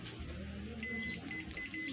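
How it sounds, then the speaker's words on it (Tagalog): A multimeter's continuity buzzer beeps in short repeated tones while probing a Bluetooth speaker's circuit board for a short across a removed SMD capacitor's terminals, four brief beeps over a steady low hum, no talk. "yan, check natin kung magbabuzzer pa."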